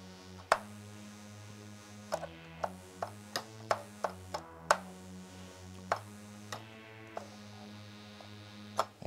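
Velo Zing preset from a tube synth plugin on an MPC Live 2, heard as sparse, quiet plucky hits in an irregular rhythm over a low sustained hum, each attack sharp and clicky.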